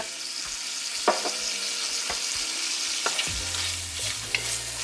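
Shrimp fry in a pan before a piri-piri sauce goes in, giving a steady close sizzle with a few sharp clinks and stirring scrapes throughout.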